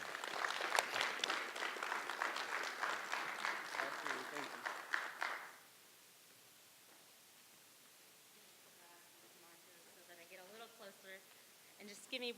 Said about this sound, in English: Give her a round of applause for Miss Maya McNulty.